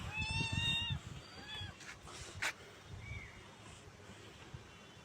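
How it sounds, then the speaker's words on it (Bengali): A cat on a rooftop gives a couple of faint, thin meows, one at the start and a quieter one a few seconds later, over soft outdoor background noise. "এই যে বিড়াল,"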